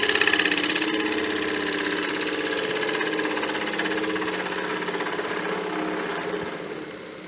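A wood lathe spins a bowl blank while a gouge cuts down toward the center, giving a steady, loud, continuous scraping whir with a fine rhythmic chatter throughout and no talking.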